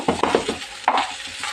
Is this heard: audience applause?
no